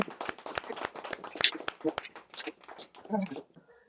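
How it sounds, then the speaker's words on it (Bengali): A small group claps irregularly at a local football team's jersey presentation, cheering the goalkeeper. The hand claps are scattered and uneven, and people talk over them. "হাততালি সবাই মহিমদা এবং গোলকিপারের জন্য।"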